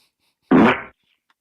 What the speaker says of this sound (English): go back to that wet fart